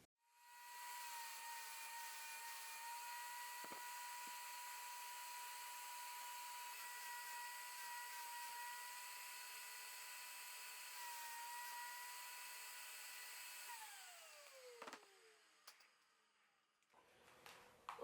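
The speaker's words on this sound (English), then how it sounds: "So I'm gonna get my gun ready here and" A spray gun sprays thinned paint onto a vanity tower cabinet, a steady close hiss with a constant whine that runs for about fourteen seconds, then winds down and is followed by a few handling knocks.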